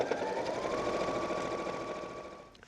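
A sewing machine stitches a drawstring onto the inside of a fabric Christmas gift bag, running in a steady, fast whir of close needle strikes with a thin motor whine, slowing and fading at the very end.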